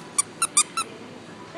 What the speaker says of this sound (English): We can get him a squeaky monkey.